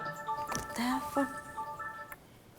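A telephone rings indoors with a steady electronic ringtone of repeating, sustained tones, while people talk over and around it in a domestic scene.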